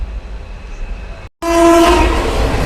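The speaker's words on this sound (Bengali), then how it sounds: "ধীরে ধীরে ট্রেনের গতি বাড়তে থাকছে" Passenger train travelling in India beyond Malda, loud rolling rumble that cuts out briefly then returns stronger, with a horn blaring near the end over the rising run of the cars.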